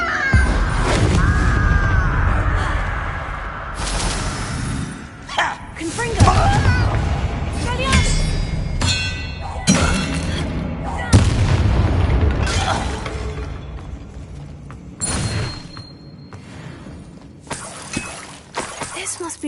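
Confringo blasting spells from the Hogwarts Legacy video game burst in repeated loud booms and crashes, spaced every few seconds over a dense bed of game music and effects, with voices talking in between.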